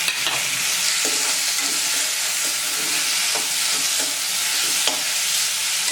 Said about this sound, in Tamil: இப்போது தக்காளி சேர்த்து நல்லா வதக்கியாச்சு.